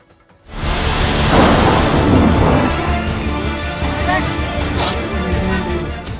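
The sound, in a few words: heavy rain with thunder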